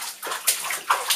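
Water sloshes as dirty clothes are washed in a washing machine, with repeated close splashing surges that rise and fall in quick waves.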